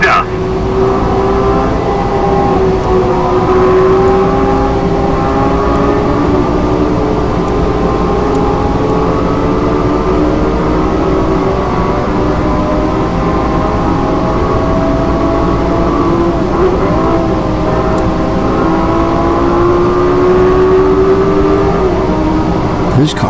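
Several racing cars roar in a video game on an Xbox, their engines droning loudly and continuously, shifting pitch as they accelerate and rev through the race.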